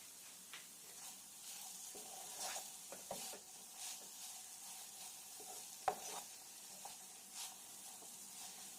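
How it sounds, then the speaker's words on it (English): Okra being stirred in a lidded pan, soft intermittent scrapes and light clinks of a utensil over a faint low sizzle, close but quiet, no talking. "Just give it a little bit of stir and make sure it doesn't catch"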